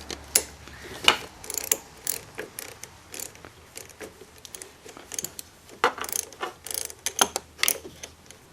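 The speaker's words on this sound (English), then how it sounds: "So we're going to go ahead and do that with our 10mm wrench." A 10mm wrench working the bolts of a brake junction block on a Kawasaki Concours 14 sport touring motorcycle, giving a steady series of close, crisp ratcheting clicks and small metallic taps.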